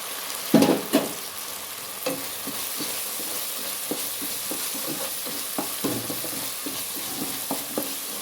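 Potatoes coated in mandi masala fry in a pan, with a steady low sizzle and intermittent spatula scrapes and taps as they are stirred, close up and without speech.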